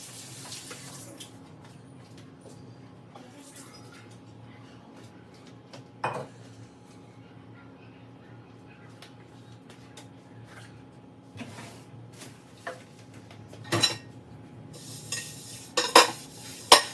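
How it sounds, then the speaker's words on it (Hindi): Dishes and utensils being handled while washing up in a home kitchen, faint clinks of metal pots and cutlery with scattered louder clatters near the end against a quiet background. "सभी मैंने पूरे बर्तन वगैरह भी वॉश कर लिए थे"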